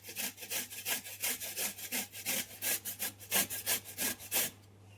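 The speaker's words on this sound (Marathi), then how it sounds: "असं किसून घेऊ शकतो" Raw papaya is grated by hand, making a rapid series of rasping strokes, about a dozen in quick regular rhythm, close and fairly loud, ending in near silence with a faint steady hum beneath.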